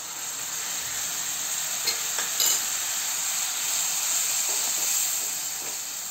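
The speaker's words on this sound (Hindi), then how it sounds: "ये देखिए हमारा मसाला भून रहा है" Grated tomato masala, made from three grated tomatoes, sizzles and hisses steadily in a pan over a high flame for a dish of no-onion, no-garlic lauki kofta curry, with faint stirring scrapes and no talk.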